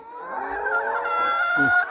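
Old hens nearly two years of age on a small egg farm, clucking and calling in a steady, close chorus of overlapping bird voices with a brief lower cluck near the end.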